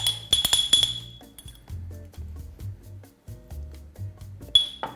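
A spoon stirs a dressing of salt, paprika, oregano and vinegar in a jar, light clinks and scraping taps against glass, quiet and irregular with a few brighter rings.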